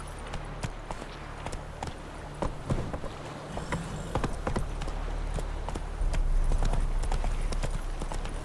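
Hooves of Roach, the horse in The Witcher 3, clip-clop in an uneven walking rhythm close by, growing busier and louder toward the end, with faint background ambience.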